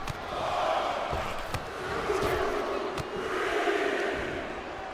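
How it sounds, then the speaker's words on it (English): A video game wrestling match crowd roars in a steady, reverberant wash of cheering, with scattered sharp thuds from the ring cutting through the noise. "Dundee Jill fans in the crowd there holding up signs."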